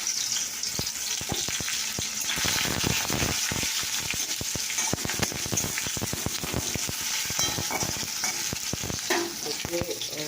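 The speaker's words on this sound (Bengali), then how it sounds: "দেখো কড়াইয়ে তেল, এখানে পেঁয়াজ কুচি। তো দেখো তেল গরম হয়ে গেছে" Chopped onions sizzle and crackle steadily in hot oil in a wok, a dense, continuous frying hiss with occasional stirring clicks and no talking.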